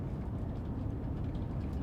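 A steady low diesel rumble from a Class 47 locomotive in the train simulation game Train Sim World 4, heard in the background as a constant drone without distinct beats or voices.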